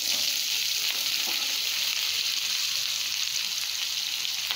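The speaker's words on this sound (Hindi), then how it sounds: "इप्पो नम्म इंगे कट पण्णि वच्चिरुक्कर कोवक्काय उल्ल सेर्त्तुक्कलाम" Ivy gourd frying in a pan with curry leaves, an even, continuous bright sizzle that stays steady throughout, close up and alone without talk.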